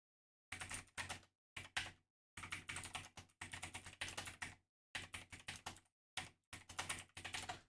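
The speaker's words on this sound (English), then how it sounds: "now my typing was atrocious there" Fast typing on a computer keyboard, close and quiet, in bursts of rapid clicking keystrokes separated by short silent pauses.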